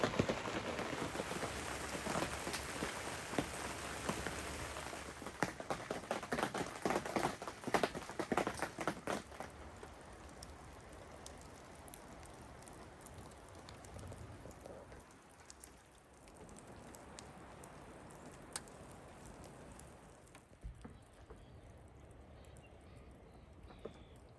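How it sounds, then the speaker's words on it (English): Rain patters steadily on a tent at a lake campsite in Algonquin Park, a dense close drumming that is heavier at first and then eases into a softer, continuous hiss. "and the rain is back"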